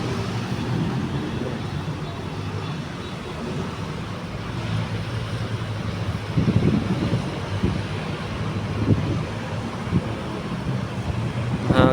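Strong wind roars steadily past the microphone outdoors near a fire scene, a dense rumbling buffet with a few louder gusts, no voices.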